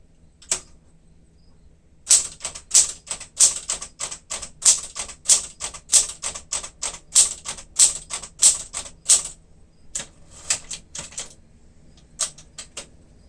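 A 1967 Smith-Corona Super Sterling manual typewriter types with its touch selector set to low, in crisp close keystrokes arriving in quick irregular runs, with brief pauses between bursts and no talk.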